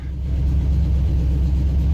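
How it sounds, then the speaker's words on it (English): A used engine in a 1974 Ford F100 truck idles steadily with a low, even rumble and no revving, close and continuous, just after its first start-up. "This is a used engine. So far so good. Let's see if it'll just idle right off the bat."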